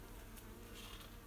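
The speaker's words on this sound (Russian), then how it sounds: "Пчелки делают свое дело." Steady buzzing hum of many bees working inside a cucumber greenhouse, continuous and fairly faint, with no voices over it.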